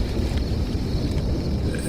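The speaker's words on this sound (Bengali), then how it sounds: "এত জোরে ঝড়!" Strong storm wind blowing in an animated Bengali ghost cartoon, a steady loud roaring rush with a faint higher whistle, continuous and alone with no voices.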